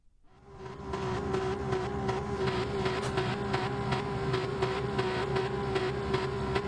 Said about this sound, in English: Alright, we hear engines. We see cars moving.